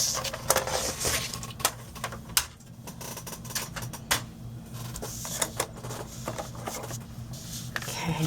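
Cardstock is scored at 1.5 on both sides for a flip lid gift box, making a run of dry, quick scraping taps and clicks close up with no talk.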